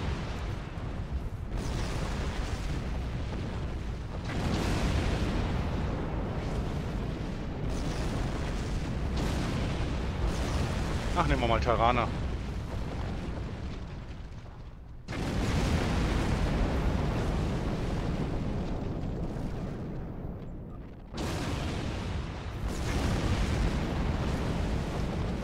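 Continuous rumbling explosions in Star Trek Online, space battle blasts rolling one into another in long dense bursts with short lulls, while someone talks briefly over them.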